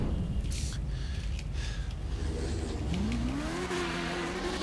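A Hakuchou motorcycle engine in GTA 5 revving up on its own, an engine tone rising in pitch toward the end over a steady background rumble.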